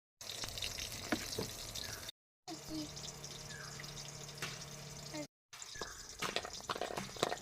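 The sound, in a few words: eggplant (brinjal) frying in a pan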